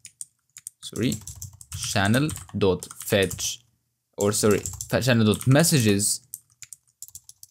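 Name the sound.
typing code on a computer keyboard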